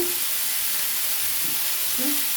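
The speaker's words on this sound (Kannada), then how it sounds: "ಸೊಪ್ಪು ಕೂಡ ಈ ಥರ ಚೆನ್ನಾಗಿ ಫ್ರೈ ಮಾಡ್ಕೊಳ್ಳೋಣ" Chopped honagone greens fry in a pan as a steady, even sizzle and hiss that runs without a break, close and moderately loud, with no talking.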